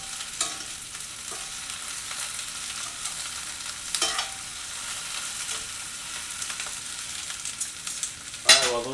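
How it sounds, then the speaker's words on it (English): Jalapeños charring and blistering in a hot pan, a steady broadband sizzle with occasional soft stirring scrapes and a sharper clatter near the end. "the jalapenos are charring up. They're starting to blister on here"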